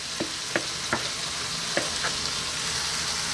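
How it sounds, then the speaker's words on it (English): Water and roughly chopped canned tomatoes go into a pot of frying vegetable stew, bringing a continuous loud hissing sizzle with a few soft stirring knocks early on. "So I'm now going to add in 1 glass of water and tomatoes, canned tomatoes, which I've just chopped roughly."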